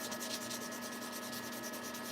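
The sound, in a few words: fine sanding of briar tobacco pipes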